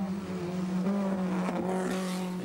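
A race car at the 1988 Tooheys 1000 at Bathurst, engine holding a strong steady tone under load heading down toward Forest Elbow, with a short shift or throttle change midway.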